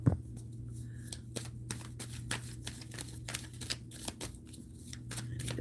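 A rapid run of crisp card riffles and snaps, close and fairly quiet, over a steady low hum, with no talking.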